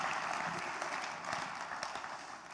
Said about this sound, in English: Round of applause for the Pune wave.